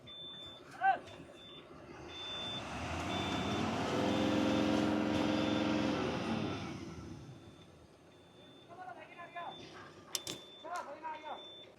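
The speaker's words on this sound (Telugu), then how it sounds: "బండి టైర్లు తిరుగుతున్నాయి." A loaded truck stuck while hauling potatoes, its tires spinning: a low engine drone rises, holds strong for several seconds with a whirring strain, then fades, followed by scattered knocks and clatter and a steady faint high tone.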